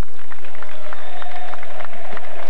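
Stadium crowd at an Argentine league match between Huracán and Newell's Old Boys applauding as Maradona leaves the pitch injured, a broad sustained wash of clapping and crowd noise under a commentator's voice.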